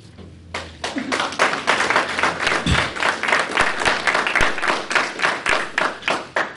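Audience applause fills a formal Land Bank meeting, many hands clapping steadily at close range, swelling quickly and then tapering into scattered claps with a few thumps.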